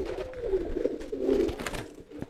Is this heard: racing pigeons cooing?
yes